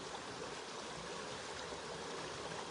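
A stream flows with a steady, broadband rush of water that stays close and continuous throughout, with no voices.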